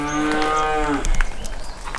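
A water buffalo moos in one long, loud, harmonic call near the listener, then stops, leaving low rumbling noise with light scattered knocks.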